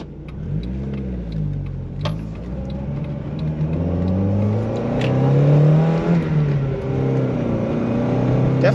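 A Mazda Miata fitted with a G Racing short throw shifter drives steadily nearby, its engine droning and rising through revs with a gear change partway through, heard from inside the car with no talking.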